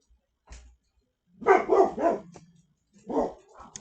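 A pet dog barks in short bursts indoors: two or three close, fairly loud barks in quick succession, a pause, then another single bark, with quiet gaps around them.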